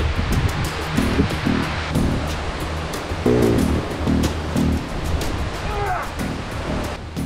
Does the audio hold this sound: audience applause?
no